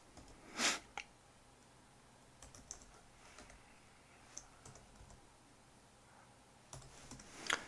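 Typing on a computer keyboard: a few scattered clicks and short bursts of key taps, faint and close in a quiet room.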